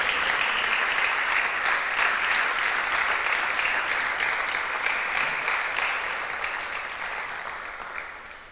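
A church congregation applauds steadily, a broad continuous wash of many hands clapping that holds for several seconds and slowly fades toward the end, with no voices over it.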